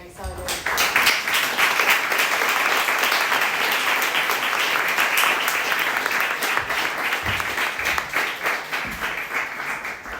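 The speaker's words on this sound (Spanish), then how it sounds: "le damos un aplauso y por finalizado el evento" An audience applauds at the end of a film screening and talk, with dense, sustained clapping from a room full of people lasting about ten seconds.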